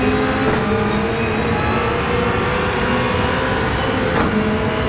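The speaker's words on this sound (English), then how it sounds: "Gran Turismo really did a good job in terms of the car sounds and everything" Race car engine in the video game Gran Turismo 7 during an online Nation's Cup race, a steady loud drone of engine and road noise with a slight pitch shift near the start and end.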